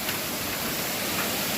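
Heavy rain pours in Italy under dark clouds, a dense, even hiss of falling water with no talking, brief and steady throughout.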